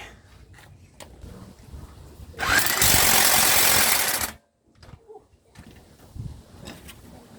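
A power tool rattles for about two seconds while tightening the wheel lug nuts on a 2005 Lexus ES 330, a loud, buzzing burst close by, set between quieter clinks and handling noises.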